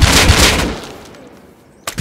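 Gunshots in a survival video game ring out in a burst at the start, loud and close, then fade into a quiet tail before one more sharp crack near the end.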